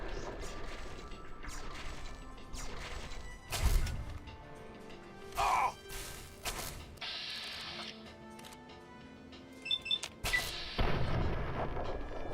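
Gunfire in Fallout 3, a few scattered shots and booming impacts mixed with mechanical clicks and clatter, moderately faint over a busy game background.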